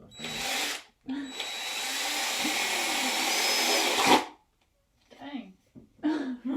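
A power drill bores holes through the bottom of a plastic container, one long steady whine lasting about three seconds after a short burst, close and loud, with voices talking before and after.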